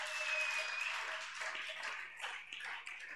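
A church congregation applauding during a French-language service, with a brief burst of steady clapping from a crowd, moderately close at first and then thinning out toward the end.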